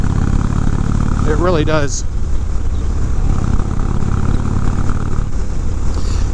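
A 2019 Indian Chief Dark Horse motorcycle with factory exhaust idling close by, a steady low engine throb that runs under a man's brief speech throughout.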